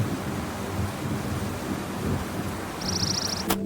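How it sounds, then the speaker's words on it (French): Thunderstorm sound effect from a nature-sounds video game: a continuous low rumbling wash of rain and distant thunder, with a brief high chirp and a sharp click near the end. "Bruit de l'orage."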